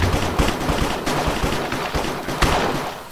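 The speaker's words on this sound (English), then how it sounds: "It's going to explode!" Explosions in a Minecraft minigame on the Hypixel server: a rapid series of loud, sharp crackling blasts and bursts, dense and repeated throughout, close and harsh.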